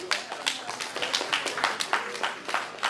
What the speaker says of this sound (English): Ladies and gentlemen, a warm round of applause for Mr.